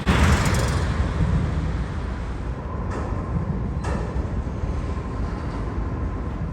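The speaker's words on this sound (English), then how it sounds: "The intermodal cars rolled by as the train came to another halt." CP intermodal freight cars roll past at close range at a terminal, a steady loud rumble of wheels and rail noise with a couple of sharp clanks partway through as the train slows toward a stop.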